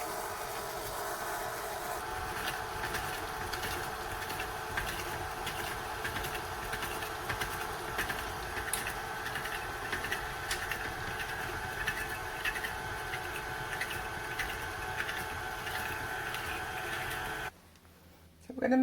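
A stand mixer fitted with a paddle beats Victoria sandwich cake batter, giving a steady, continuous mechanical whir with a faint rhythmic knock that runs for about seventeen seconds before stopping abruptly.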